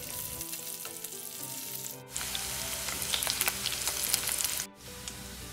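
Beef dendeng balado slices frying in a pan until browned, giving a steady close crackling sizzle with occasional stirring, briefly interrupted twice.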